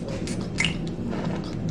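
Jamaican mango and lime Braid Your Way foam dry wash is applied to braided hair, giving soft, close squishing and wet smacking sounds with a brief foamy hiss, without speech.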